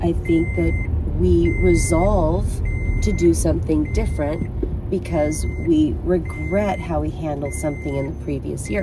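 A vehicle's reversing beeps repeat at a steady rhythm a short distance away, running under a person talking continuously in the foreground.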